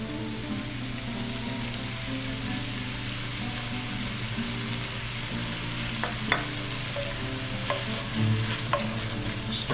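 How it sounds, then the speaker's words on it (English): Onions, red bell peppers and garlic sizzling steadily in a pot while being stirred, a continuous close frying hiss with occasional scraping and tapping of the spoon. "Stir it around until the garlic starts to turn just a little bit."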